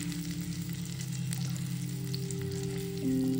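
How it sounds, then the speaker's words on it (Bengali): Dried red chillies fry in oil in a home kitchen, giving a steady, fine sizzle close by, with a constant low hum underneath and no voices. "দুটো শুকনো লঙ্কা ভেজে নেই।"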